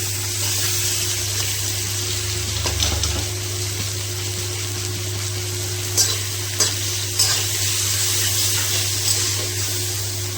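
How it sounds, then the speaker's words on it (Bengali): Onions sizzle steadily in a pan with a little salt, a continuous frying hiss broken by a few sharp stirring scrapes near the end, with a low steady hum underneath. "পেঁয়াজটা ভালো করে ভেজে দিতে হবে, অল্প একটু লবণ দিয়ে দিতে হবে"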